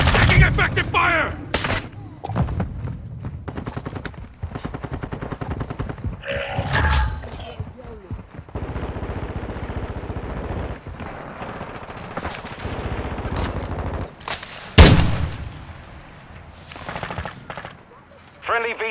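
Bursts of automatic gunfire and single shots crackle through a military video game battle, with intermittent explosions and thuds, loud sharp cracks at the start and near the end, under game radio chatter.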